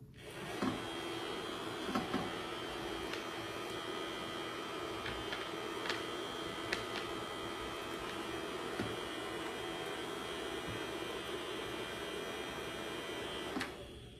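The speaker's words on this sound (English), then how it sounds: "Now, put them in my dryer." A kids' light-up nail dryer from a manicure kit hums steadily, a small electric fan whir that stays even and close, broken by a few faint clicks and taps.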